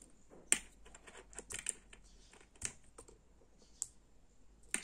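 Small plastic latch on a fiber optic connector being handled and snapped into place, giving a series of sharp, close, quiet clicks at irregular intervals over a faint background.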